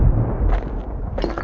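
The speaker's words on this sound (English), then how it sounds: "Okay, so now I have like cannons." Cannons booming in the video game Bastion, a few heavy low blasts rolling under a dense rumbling background, with brief crackling bursts midway and near the end.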